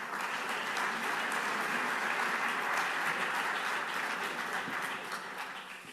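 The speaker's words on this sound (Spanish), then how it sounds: "Un aplauso para él." An audience applauds a speaker at a public conversation event in La Rioja, giving a steady, dense, loud round of clapping that fills the hall and fades slightly toward the end.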